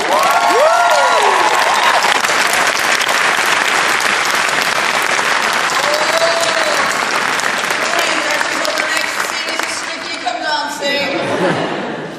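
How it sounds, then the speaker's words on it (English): Loud, sustained applause from a comic convention audience, packed and dense for most of the span, with cheers, whoops and chatter rising through it before it thins out near the end. "So can you give her a round of applause?"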